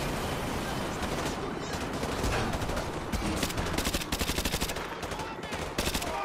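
Rapid gunfire in Modern Warfare 2 while shooting enemies on a roof, dense bursts of automatic shots stacked close together with choppy pauses, loud throughout, with a voice faintly underneath.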